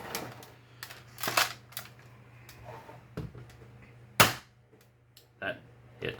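A Nerf Hammershot toy blaster fires, giving a sharp snapping crack, preceded and followed by scattered clicks and handling knocks, with a low background hum.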